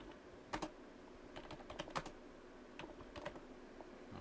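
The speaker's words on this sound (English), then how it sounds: "And then you can literally start typing into this Google document." Typing on a computer keyboard into a Google document, with scattered light key clicks at an uneven pace and small pauses between bursts. It sounds faint and close, with no talking.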